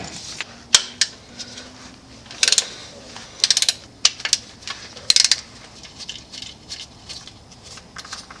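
Ratchet wrench working on the transmission mount bolts of a 2013 Volkswagen Golf Mk6, with irregular bursts of clicking and metallic clinks, close and fairly quiet.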